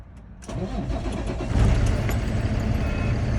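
A truck engine cranks and catches with the transmission in neutral during a safe-start check, then settles into a loud, steady, close-up rumbling idle that builds slightly in strength.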